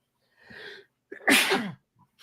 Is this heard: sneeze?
yes